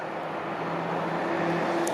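A 1929 Ford Phaeton with a canvas top running, its engine giving a low, steady idle hum close by with a faint tonal whine rising near the end.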